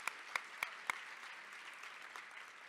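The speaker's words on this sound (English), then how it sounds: "That is worth clapping for" Audience applause at a luncheon: a few sharp, separate claps at first, then a soft, steady patter of clapping that stays faint and distant throughout.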